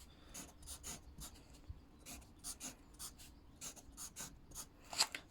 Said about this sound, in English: So I'm going to draw my boxes.